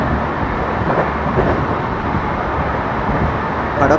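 Pune–Sai Nagar Shirdi Intercity Express on its inaugural run rushes through Uruli Kanchan station at 110 km/h, heard from on board as a steady, loud rumble and rattle of wheels and carriage without a break; no talking.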